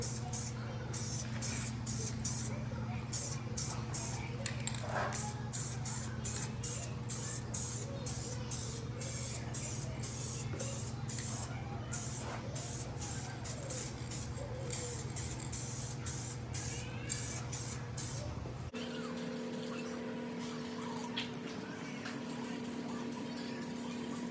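Spray paint hisses in a long series of quick, rhythmic bursts as a light first coat is misted inside a Foxbody Mustang's interior, close and steady, ending with a lower, quieter background hum.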